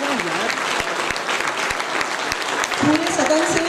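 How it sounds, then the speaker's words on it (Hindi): Audience applause at a Hindu festival gathering in a hall, sustained clapping from a crowd throughout, with a voice speaking over it near the end. "सभी के लिए प्लीज जोरदार ताली बजा दीजिए।"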